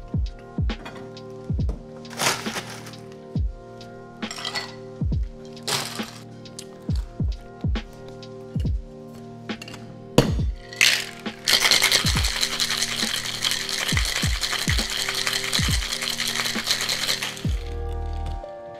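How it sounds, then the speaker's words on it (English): A gin gimlet with lime juice is shaken over ice in a cocktail shaker, first as a loose series of separate knocks and rattles, then as a dense, loud, continuous rattle of ice for several seconds before stopping with a thud. "We're gonna give this drink a shake for about 8 to 10 seconds."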